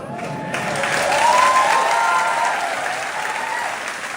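Audience applause rises for the Les Misérables 40th anniversary team, a dense wash of clapping that builds quickly and holds steady, with some tonal sound and faint voices underneath.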